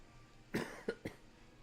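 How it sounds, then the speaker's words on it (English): Three short coughs from a person, a strong first burst followed by two quicker ones, close and clear over a quiet background with no talking. "Excuse the cough."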